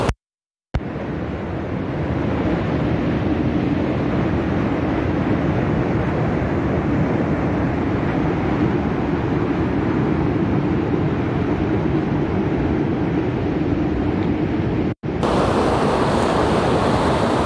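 A mountain river rushes under a bridge near Gaurikund on the route down from Kedarnath, a loud, dense and constant roar of turbulent water close by, with a brief gap near the start and a short break late on.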